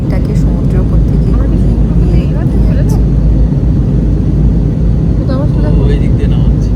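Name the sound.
airplane cabin noise during descent over the sea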